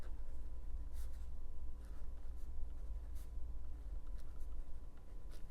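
A pen scratches across journal paper in soft, close strokes, faint and irregular against a low steady room hum, with no talking.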